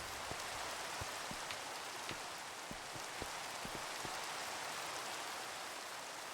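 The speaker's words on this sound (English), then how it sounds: "It is raining." Steady rain in the Minecraft Exosphere modpack, a constant soft hiss with scattered individual drop taps, faint and continuous with no talking.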